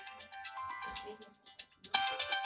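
Ringtone melody playing from the single right speaker of a Meizu m3s budget smartphone, thin, tinny and fairly quiet, rising brighter and louder toward the end.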